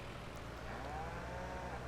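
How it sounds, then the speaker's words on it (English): A long, low cow moo in Farming Simulator 19 over a constant rumbling background, with other mooing drawn out beneath it, no talking. "you can hear the cows"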